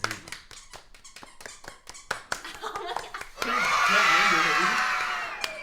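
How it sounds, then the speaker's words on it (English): Clapping from a group of people, a run of sharp separate claps under chatter that gives way to a louder, sustained burst of applause and crowd noise in the last seconds. "There's people clap. People clap."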